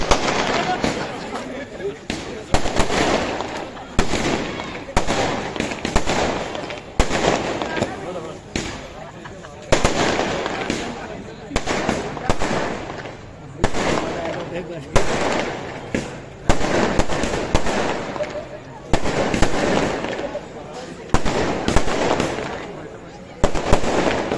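Fireworks go off in a steady barrage of rapid cracks and pops through the whole stretch, loud and dense, with voices talking and shouting underneath during a street celebration in Solapur.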